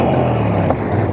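A Moto Guzzi V7 motorcycle engine gives off a continuous low, close rumble that stays steady for the whole short stretch, with no talking.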